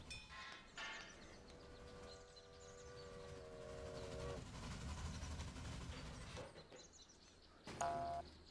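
Trains run in the railway management game Railway Empire, giving a steady rumbling clatter with sustained tonal whistle-like notes and a brief sharper burst near the end, all at a moderate level with no talking.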